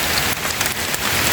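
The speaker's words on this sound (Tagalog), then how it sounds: "Lakas ng ulan." Heavy rain pours steadily outdoors during a rainy-day hunting trip, a dense close hiss with scattered drop patter and no voices.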